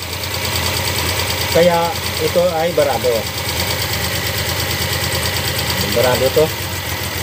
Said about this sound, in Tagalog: Maya maya mamamatay to ang makina dahil napa-flooded.